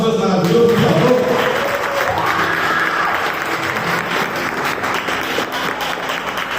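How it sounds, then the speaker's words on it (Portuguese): Church congregation applauding during a sermon, a sustained wash of clapping that holds steady for several seconds, with a voice and some tonal sound over it at the start. "Quem crê nisso, aplaude nosso Deus maravilhoso, por favor."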